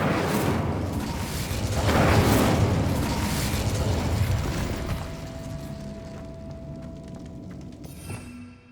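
A Bombarda blasting spell cast in Hogwarts Legacy detonates with a deep, rumbling boom that rolls on for several seconds and then fades into quieter game ambience and a faint steady tone.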